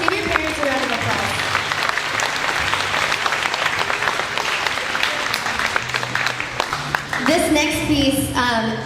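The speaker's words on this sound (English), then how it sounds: "Students, give your parents a round of applause." Loud, sustained audience applause at a middle school honor band concert, thick clapping from a large crowd that continues throughout, with a voice speaking near the end as it fades.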